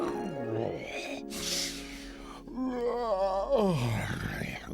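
A voice performs a giant's loud snoring in an animated Jack and the Beanstalk fairy tale: long groaning, moaning breaths with a raspy snort-like exhale between them, close and exaggerated.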